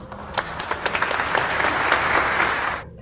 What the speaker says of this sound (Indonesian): beri aplaus untuk Putri.